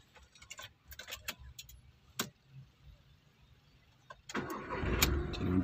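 A Volkswagen Polo engine is started near the end after a few scattered clicks and ticks, then settles into a close, steady rumble.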